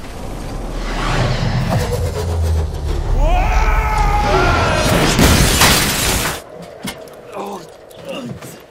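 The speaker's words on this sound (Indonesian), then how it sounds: "mobil itu pun menabrak sebuah pohon" A car crashes into a tree in the 2019 disaster film Ashfall after a fight inside it: loud rushing engine and wind noise build into a crunching impact with shattering glass, then cut abruptly to quieter scattered sounds.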